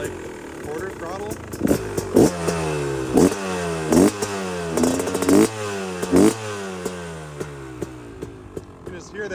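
A 2025 Beta 300 RX two-stroke motocross engine idles with a throaty rumble and revs in repeated short quarter-throttle blips, close by, with a voice talking over it.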